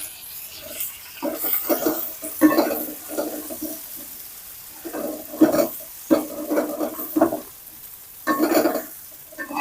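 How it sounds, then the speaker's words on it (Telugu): A handful of curry leaves hits hot oil with frying garlic chicken, giving uneven bursts of crackling sizzle and stirring scrapes that rise and fall in short clusters separated by quieter gaps. "ఒక గుప్పిడంతా కరివేపాకు వేసుకుందాం."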